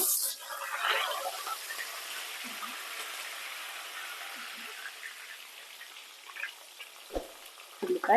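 Mustard seeds, cumin and onion frying in hot oil for an aloo gobi matar methi curry make a soft, steady sizzle with scattered crackles, broken by a few louder clattering stirs and knocks near the end.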